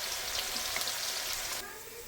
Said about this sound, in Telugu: బిర్యానీకి కంపల్సరీ డీప్ ఫ్రైడ్ ఆనియన్స్ కావాలి, ఫ్రైడ్ ఆనియన్స్. కాబట్టి వీటిని ఆయిల్లో వేసుకుంటున్నానండి